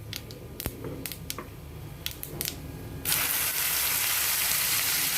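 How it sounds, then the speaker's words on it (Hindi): Whole spices crackle in hot oil while cooking Hyderabadi karela saalan, with a few sharp pops giving way to a loud, steady sizzle as a paste is added to the pan. "आप देख सकते हैं तड़क रहे हैं अच्छे से"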